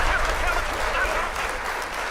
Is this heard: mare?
no